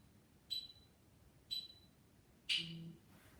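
Interval timer during a lower back stretch hold sounds three short, faint electronic beeps about a second apart in a quiet room, the last one slightly longer and fuller.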